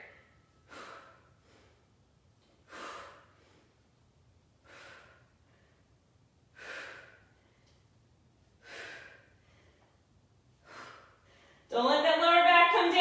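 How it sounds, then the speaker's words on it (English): Heavy exercise breathing during a boot camp workout, a series of sharp, evenly spaced breaths about every two seconds, close and fairly clear, ending in a louder burst of noise. "When we start breathing heavier,"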